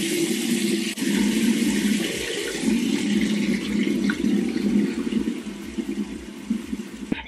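Hot tap water runs steadily while wetting a face cleanser during a nighttime makeup-removal routine, a continuous close rush and splash lasting about seven seconds with no talking.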